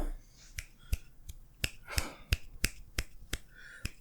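Eleven sharp, dry finger snaps in an uneven rhythm, close and fairly faint against a quiet room, with a brief breathy sound partway through.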